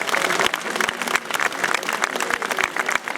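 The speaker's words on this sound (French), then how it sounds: "Vous pouvez applaudir plus fort, parce que c'est vous que vous applaudissez." An outdoor crowd at a memorial tribute for Ilan Halimi claps in a lively, uneven burst, individual sharp claps standing out against the broader applause throughout the short stretch.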